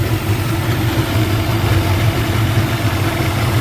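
A steady engine idles at low revs, a continuous low rumble with a faint rhythmic throb and no other sounds.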